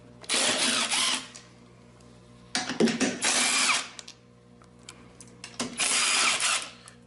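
Three bursts of a whirring power tool driving out bolts with an 8mm socket on a Yamaha motorcycle, each burst lasting a second or two and revving in pitch, with short quiet gaps between.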